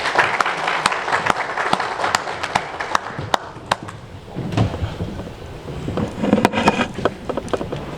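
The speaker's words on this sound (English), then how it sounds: "Please give him a big round of applause, ladies and gentlemen, as he comes up" A seminar audience on Chinese investments in Zimbabwe gives sustained applause as the Ambassador of China comes up, a dense crowd of clapping filling the room, with loud individual claps standing out near the mic.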